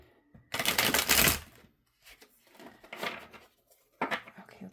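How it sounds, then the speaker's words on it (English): Tarot cards are shuffled in three quick riffling bursts, close and crisp, separated by short pauses of quiet. "So I'm just going to shuffle the deck a few times"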